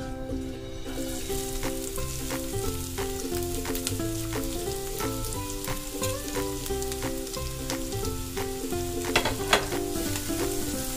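Onion, ginger and green chili frying in a pan after fennel seeds, a dense continuous sizzle with crackling pops and stirring clatter, close and steady for the whole stretch, no voices.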